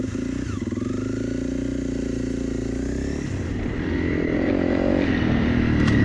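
A Honda CRF 300 Rally dual-sport motorcycle rides on wet trail, its single-cylinder engine droning steadily up close, then pitch and load shift as the throttle changes partway through.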